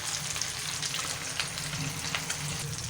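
Shami kababs browning in hot oil in a pan, a steady close crackling sizzle that continues without a break and with no voices.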